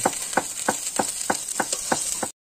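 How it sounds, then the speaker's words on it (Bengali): Onions and garlic fry in a wok with a bright, continuous sizzle, punctuated by about eight regular scraping strokes of stirring, close and fairly loud, before the sound cuts off abruptly. "এবার পেঁয়াজগুলো আমরা কোঁড়ার মধ্যে দিয়ে নেব।"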